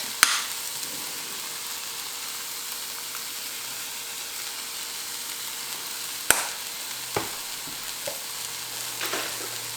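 Gluten-free dough ingredients, including pepper and nutritional yeast, are stirred together in a steady, soft scraping churn with a few sharp clicks and knocks. No one speaks.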